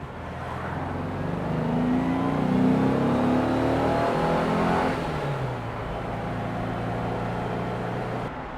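A restored Porsche 356 pulls hard under load, its engine note rising steadily through the gear, dipping at a shift near the middle, then settling into a steady drone in second gear, close and loud throughout.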